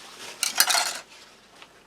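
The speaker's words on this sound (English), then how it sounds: "Just wipe the spoon." A metal spoon clinks and scrapes against a ration tin or pot while being wiped clean after mixing vegetarian field ration food, a short burst of clatter followed by a faint tap.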